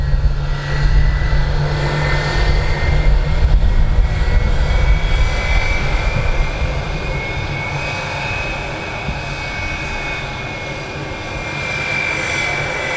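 A Virgin Atlantic Airbus A350-1000 airliner idles on the ground at Manchester Airport after taxiing, a loud, steady engine roar and whine that eases slightly over time.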